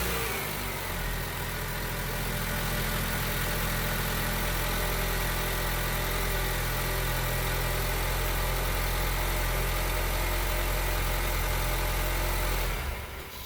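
A 2010 Honda Civic 1.8 engine after an oil change: started and then idling with a steady, even hum and low vibration, close and continuous before cutting off near the end.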